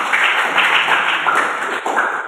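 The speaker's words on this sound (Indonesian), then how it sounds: "beri tepuk tangan yang mulia." A classroom audience claps in a brief round of applause, a close, dense patter of hand claps that thins slightly toward the end.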